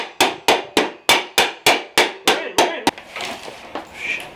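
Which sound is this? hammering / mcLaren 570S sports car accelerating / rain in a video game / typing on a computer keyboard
hammering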